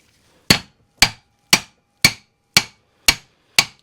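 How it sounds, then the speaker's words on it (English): Seven light, sharp metallic taps from a small 4 to 6 ounce hammer striking a vehicle U-joint, evenly spaced about half a second apart, each ringing briefly before the next. "you can see I'm hitting it right there, and I'm not hitting it very hard"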